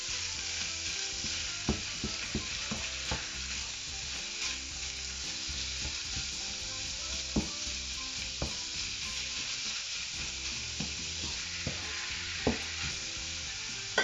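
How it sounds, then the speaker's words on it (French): Ground beef fries in a pan with a constant loud sizzle, while a spatula presses and scrapes against the meat in occasional sharp taps and knocks. "j'y rajoute mon haché de bœuf et je l'écrase un tout petit peu avec ma spatule"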